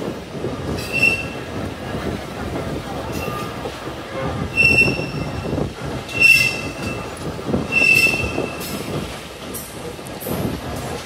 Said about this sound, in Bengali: আমাদের ট্রেনটি এখন পদ্মা সেতুর যে মেন লাইন রয়েছে গ্যান্ডারিয়া জংশন থেকে আলাদা হয়েছে সেই লাইনে চলে যাবে।